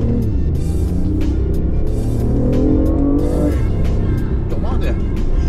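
BMW i8 hybrid sports car in sport mode, its engine humming and revving loudly from inside the cabin, with a rising tone partway through and people talking over it.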